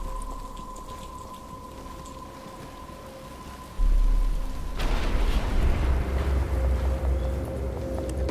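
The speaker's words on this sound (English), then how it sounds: "it's starting to rain" Rain falls in the Batman: Return to Arkham game at Arkham Asylum, a steady hiss of drops on surfaces that suddenly swells heavier and louder about halfway through and keeps pounding.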